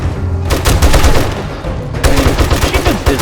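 Rapid machine gun bursts from the survival video game 7 Days to Die, loud and dense, with a brief lull before another sustained stream of fire.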